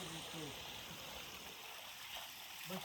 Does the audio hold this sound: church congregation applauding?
no